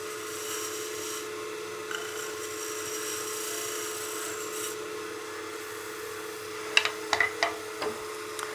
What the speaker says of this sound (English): I'll get my skew just to clean up that corner